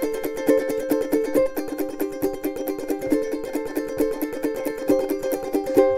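A ukulele strummed quickly with steady alternating down and up strokes, a dense, even rhythm of chords, close and unaccompanied.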